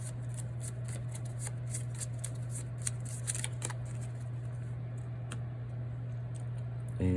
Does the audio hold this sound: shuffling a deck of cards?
yes